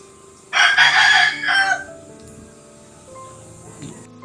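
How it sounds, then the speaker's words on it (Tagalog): A rooster crows once, loud and close, a strained, broken cock-a-doodle-doo lasting over a second at the grandfather's old family house, followed by quieter background hum and faint clucking. "may manok na kuya"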